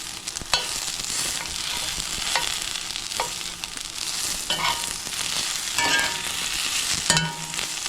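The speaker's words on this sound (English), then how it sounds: "the peppers brown a little bit" Plant-based bulgogi peppers fry and blister in a hot pan, a steady broadband sizzle with occasional stirring scrapes and sharp crackles, close and continuous with no talking.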